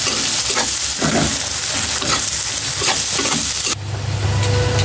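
Onions frying in hot oil make a loud, dense, continuous sizzle with rhythmic stirring scrapes, and the sound shifts abruptly near the end into a lower steady hiss.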